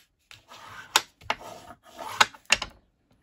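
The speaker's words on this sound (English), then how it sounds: "I'll just give that a quick burnish." A folded cardstock crease being burnished with a tool, several short close rubbing strokes in quick bursts with brief pauses between them, alone and without speech.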